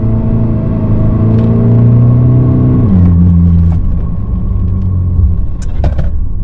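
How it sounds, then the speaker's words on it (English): An Isuzu D-Max with an AC60 automatic transmission accelerating hard in first gear, a loud close engine roar climbing in pitch, dropping at a gear change, then continuing under strain with brief tyre scrabble as the wheels spin. "Whoop, lot more torque, bit of wheel spin."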